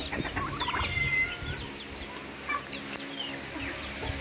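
Chickens cluck and squawk in short bursts outdoors on a family farm, several birds calling close by with background farmyard noise and no talk.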